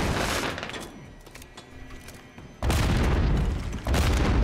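A flash grenade going off in Call of Duty MW3, heavy blasts and crackling gunfire-like bursts, loud and close, with a sharp loud onset partway through.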